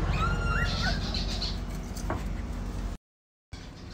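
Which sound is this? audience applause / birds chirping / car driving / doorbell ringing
birds chirping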